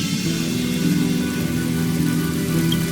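Steady rain falls in the video game Honkai Star Rail, a dense, even hiss of drops on surfaces with a low constant rumble underneath, continuous and fairly loud throughout with no talking.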